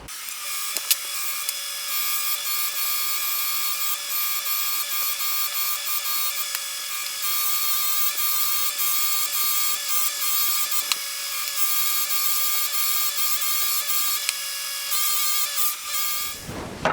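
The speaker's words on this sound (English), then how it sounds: "So I'm going to go ahead and get all these polished up." Polishing a 1970s Craftsman 3/4-inch ratchet and socket set makes a loud, steady mechanical whine with bright ringing overtones, running without pause for the whole stretch and with no talking.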